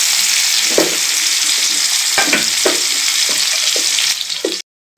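Chopped onions hit hot oil seasoned with cumin seeds and sizzle loudly, a bright hiss broken by a few clinks and scrapes from stirring, before the sound cuts abruptly to silence.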